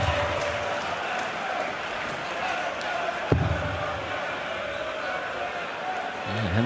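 Darts crowd cheering a maximum 180 score at a tournament match, a dense wall of roaring voices and clapping in a big hall, with a commentator talking over it and one sharp bang in the middle.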